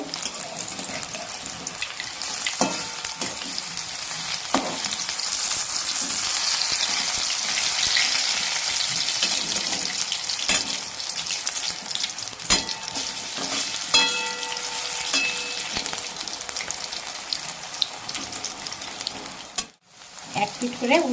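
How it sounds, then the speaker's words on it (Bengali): Steady loud sizzle of large pieces of vegetarian mock fish frying in hot oil, with a few clinks and scrapes from turning them, and no voices. "একদম বড় বড় মাছের পেটি ভাজা হচ্ছে"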